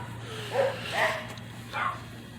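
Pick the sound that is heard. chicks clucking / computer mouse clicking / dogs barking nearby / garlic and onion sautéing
dogs barking nearby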